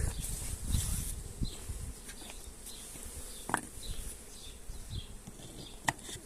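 Honeybees hum and buzz around an opened hive in a rural apiary during rapeseed nectar flow, a soft steady drone with individual bees passing close, punctuated by a few faint clicks and taps.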